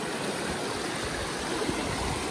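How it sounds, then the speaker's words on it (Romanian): A mountain river flowing on a hiking route near Predeal, a steady, close rush of water with an even, unbroken roar and no voices. "vuietul apei curgătoare, vă invit să-l ascultăm împreună."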